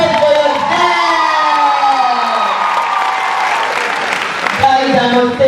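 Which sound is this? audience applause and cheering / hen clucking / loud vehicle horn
audience applause and cheering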